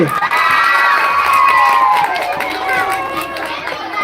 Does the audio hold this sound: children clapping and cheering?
yes